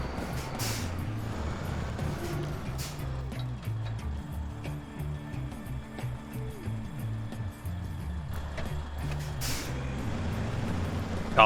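A huge truck in the Snowrunner off-road game rumbles with a low, shifting engine drone, and two sharp hissing bursts like air brakes stand out near the start and the end.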